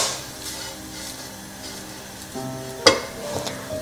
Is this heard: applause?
no